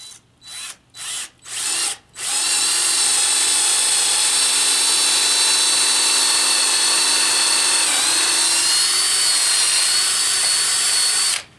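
A power drill bores holes into wood for a bucksaw frame: four short trigger bursts first, then a long, loud, steady whine close by that dips slightly in pitch partway through before cutting off.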